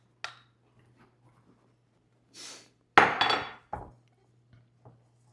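Biscuit dough being mixed with whipping cream in a bowl: a few sharp clinks and scrapes of a utensil against the bowl, with a louder burst of stirring and knocking near the middle, close and quiet, no talk.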